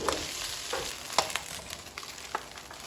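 Fried fish and red onion sizzle in a pan for pancit while being stirred, with soft scraping and clinking of the spatula at irregular intervals over a constant frying hiss. There is no talk.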